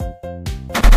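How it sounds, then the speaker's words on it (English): A cartoon gun firing ice lollipops and jellyfish gives a quick sequence of loud, bright synthetic blasts and pops within about a second, close and with no talk. "They've made a gun that can fire ice lollipops and jellyfish."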